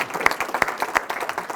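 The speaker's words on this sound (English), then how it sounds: "Let's give him a round of applause." An audience applauds at a workforce development funding event, a brief burst of many hands clapping at once, fairly close and steady, with no voices over it.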